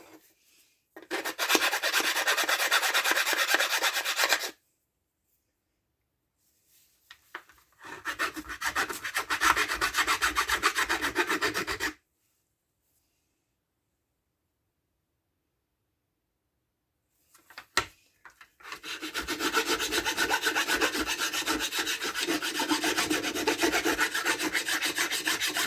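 Rasping and filing strokes as burrs are removed from small metal parts of a Stihl MS170 chainsaw, in three steady bursts separated by quiet pauses, close and fairly loud with no talk.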